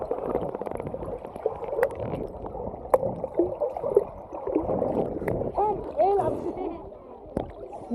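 Water splashing and sloshing in a resort swimming pool, with irregular nearby splashes and gurgles mixed with people talking and shouting.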